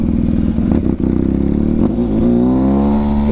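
A motorcycle with a straight-pipe exhaust runs up close and loud, with a fast pulsing putter and a couple of short revs that rise in pitch near the end.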